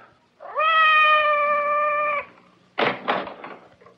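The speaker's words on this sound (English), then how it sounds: "It sounded like Madame's cat, Francois." A cat meows once in a long, drawn-out cry just outside a door in a radio drama scene, followed by a few short knocking thumps; close and clear, with no talking.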